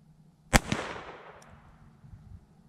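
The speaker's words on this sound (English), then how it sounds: "So three shots, 38 grain Federal hollow points." A single sharp .22 LR gunshot from a 38 grain Federal hollow point round, fired during ballistics gel testing, cracks loudly and then trails off into a fading echo with no talking.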